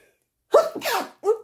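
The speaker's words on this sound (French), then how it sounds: "ce n'aurait pas été une vidéo si je n'avais pas éternué" A single sneeze after a short silence: a sharp gasping intake, then the loud burst of the sneeze, followed by a brief vocal sound, close and with nothing else heard.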